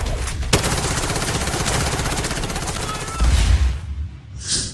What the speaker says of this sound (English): You can shoot from guns, assault and sniper rifles of different models.